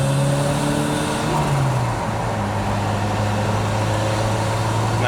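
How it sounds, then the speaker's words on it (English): A 1983 Lotus Esprit turbo accelerating in second gear from inside the cabin, its engine note climbing steadily in pitch over a constant roar of road and wind noise. "We'll roll it into second here. And it builds boost nicely."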